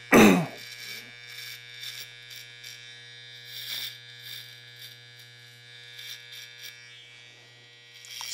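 Electric hair clippers run with a steady, thin motorized hum while cutting a skin fade, opening with a brief loud bump, then softer intermittent cutting rasps over the constant buzz, without voices.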